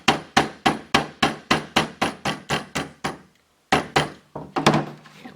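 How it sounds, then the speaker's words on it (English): An Allen wrench taps a pin out of a Hi Point JHP .45 ACP pistol: a steady run of about eleven sharp, loud, close metallic knocks, a brief pause, then a few more quicker taps. "we're just going to punch this pin out here in the back"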